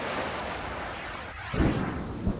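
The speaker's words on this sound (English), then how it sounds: "The storm that swept through Brisbane, concentrating itself on Wollongabba and on the cricket ground." Thunderstorm over the Brisbane cricket ground at the Gabba, a steady wash of rain and wind building into a deep, loud rumble of thunder in the second half, with no voices.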